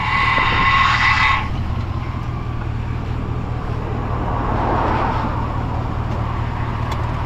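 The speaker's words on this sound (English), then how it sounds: "power steering pump sounds terrible" An old plow truck with a bad power steering pump runs close and loud, a brief high whine at the start fading into a steady low engine drone with a rough mechanical hum.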